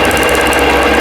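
A sewing machine stitches out a quilt block, a loud, close, steady rapid mechanical whir and chatter of the needle running without pause.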